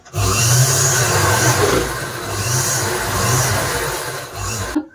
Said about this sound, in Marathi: आता हे फोल्ड करून यावर शिलाई मारून घेऊया.